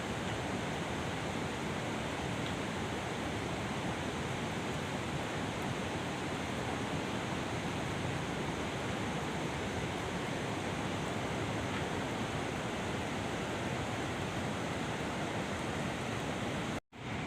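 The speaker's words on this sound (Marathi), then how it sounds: "हे बघा बारीक बारीक धबधबे मस्त पैकी" Small waterfalls on a river in rural countryside pour in a steady, dense rush of water, a constant hiss that continues unchanged until it cuts off abruptly at the end.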